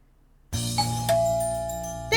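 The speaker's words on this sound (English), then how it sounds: "The sound of the doorbell is elegant and serene." A doorbell in How To Date A Magical Girl rings with a soft two-tone ding-dong chime over gentle background music, its clear bell tone ringing out and fading before a second swell.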